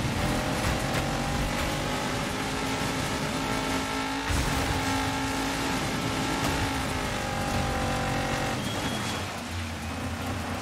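Racing car engine sounds from the video game Dirt 5 run continuously: a loud, steady engine drone with revving, rising and falling pitch, and tire noise, with no talking.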